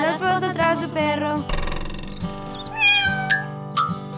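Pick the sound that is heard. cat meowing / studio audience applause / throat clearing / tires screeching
cat meowing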